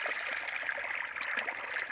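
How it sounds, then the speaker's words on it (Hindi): Irrigation water pumped by motor flows steadily into a wheat field, a continuous near rushing and trickling stream with no gaps and no voices. "पानी चल रहा है खेत में"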